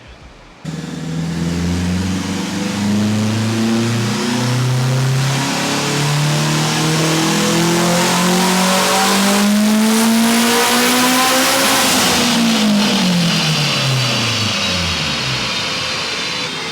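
A turbocharged 8th-generation Honda Civic engine runs a dyno pull, rising steadily in pitch as it revs hard for about eleven seconds before dropping off, loud and close with a high turbo whine.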